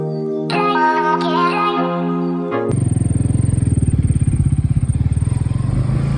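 Motorcycle ride to a temple: a sustained tonal hum with overtones opens, then the bike's engine takes over with a close, loud, rapidly pulsing thrum that holds steady to the end.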